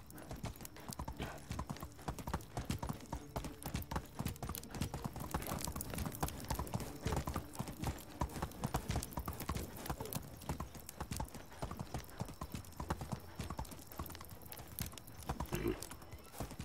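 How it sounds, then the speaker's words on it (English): Horse hooves clip-clopping steadily in the medieval video game Medieval Dynasty, a continuous, even rhythm of soft footfalls with faint background ambience throughout. "Come on, horse."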